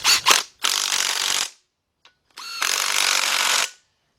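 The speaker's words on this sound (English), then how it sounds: "Let's bolt these up." Ratchet tightening bolts on the heat shield area of a 1977 Buick LeSabre 350 engine, two loud extended bursts of rapid clicking close up, separated by a short quiet gap with a faint tap.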